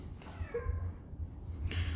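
A pet cat meows in a short drawn-out call at moderate distance, indoors near a workbench where an FMS Dassault Rafale RC jet is being worked on, with low background hum and no talking.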